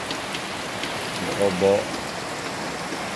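Steady rain drumming on a small nipa hut in the Philippines, a continuous broadband hiss close around, with a voice speaking briefly over it.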